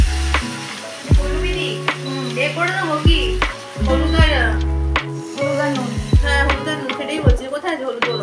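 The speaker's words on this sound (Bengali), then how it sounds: "এখানে বেগুন ভাজা তোড়জোড়ো করছে," Sliced eggplant frying for begun bhaja in a home kitchen, a continuous close sizzle with occasional utensil knocks and stirring, heard under intermittent talking.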